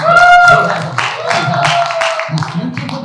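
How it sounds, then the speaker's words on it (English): Audience applause for Danielle at a comedy fundraiser show: a steady wash of clapping from the crowd runs through the clip while a voice keeps talking over it. "Round of applause for Danielle,"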